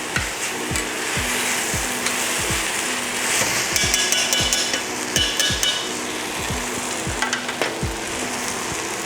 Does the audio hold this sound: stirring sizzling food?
yes